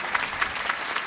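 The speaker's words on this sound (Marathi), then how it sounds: "मला तुमच्याकडून टाळ्याची अपेक्षा होती महाराज" Kirtan audience clapping, a brief run of evenly spaced claps at a steady slow rhythm, about four distinct beats over a soft background hum, moderately quiet and without talk.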